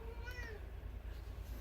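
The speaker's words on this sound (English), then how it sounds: "Yes, cat." A cat gives one clear, close meow with a rising and falling tone early on, then falls quiet over a low steady hum in a garage setting.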